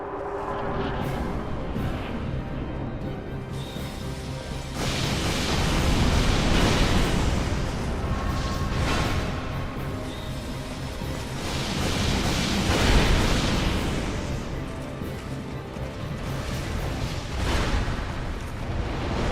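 Repeated explosions in the video game Dark Souls 2 during a multi-boss fight form a dense, sustained rumbling roar that swells into heavier blasts every few seconds, with no speech.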